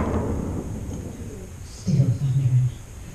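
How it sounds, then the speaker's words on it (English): Low rumbling thunder sounds through a Halloween stage play. It rolls at first, then comes back as a louder low rumble near the end, with stage noise around it. "Still thundering."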